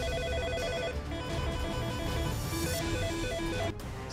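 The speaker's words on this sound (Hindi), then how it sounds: "किसी भी वक्त दफ्तर के लैंडलाइन फोन घनघना सकते हैं।" A landline telephone rings over and over in a government office amid a busy electronic background, steady and fairly loud, with no voices.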